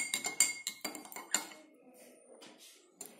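A spoon clinks and scrapes against a glass beaker while lemon is stirred into water, a quick run of bright rattling taps that slows to softer swirling clinks.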